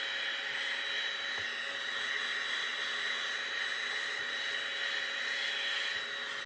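A heat gun used to heat-set thin paint on a fishing lure gives a steady, fairly quiet blowing whir with a constant hum, running alone and ending with a brief knock.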